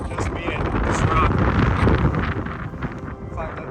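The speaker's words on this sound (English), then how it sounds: "It's so windy." Strong wind buffets the microphone atop a rock overlooking San Francisco, a loud, roaring rumble with gusting swells throughout, close and unbroken.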